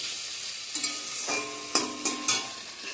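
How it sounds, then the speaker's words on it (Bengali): Taro stolons (kochur loti) fry in a pan with a soft steady sizzle, while a utensil stirs and scrapes in several short, sharper strokes close by. "আজকে কচুর লতিটা রান্না করতেছি।"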